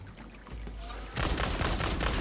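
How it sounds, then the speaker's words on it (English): A new gun in the Tiny Tina's Wonderlands game fires, a quiet stretch giving way to a dense burst of loud, rapid shots with rattling impacts near the end. "Much slower firing."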